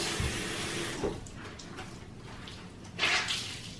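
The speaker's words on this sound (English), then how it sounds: "You can wring that out as you need to and rinse it out like this." A cleaning cloth is rinsed and swished in a bathroom sink, giving soft running and splashing water close by, with a louder slosh near the end and no speech.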